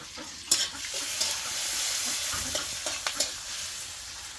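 Goat meat being hand-mixed with chopped onion and mustard oil, a close, continuous wet squelching and slapping with a few sharper squishes, no voices.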